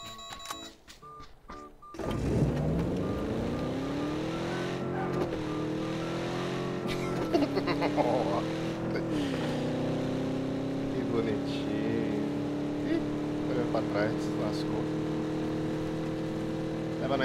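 Car engine in PUBG starting up and driving, a steady droning hum that rises and shifts in pitch as it accelerates, continuous and fairly loud, with people talking over it.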